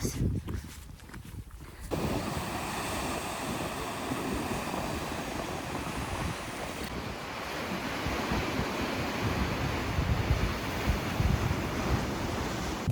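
Wind blowing outdoors in Iceland, a steady loud rushing roar with heavy buffeting on the microphone, continuous for most of the stretch after a brief quieter opening.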